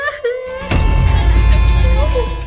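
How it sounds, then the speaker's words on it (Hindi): A girl crying at night, loud and close: wavering sobbing wails that rise and fall over a low rumbling background. "ये रोने की आवाज किसकी आ रही है?"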